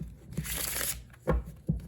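A deck of playing cards being shuffled for a beginner's card trick, a short riffling burst followed by two soft taps as the cards settle, close and quiet.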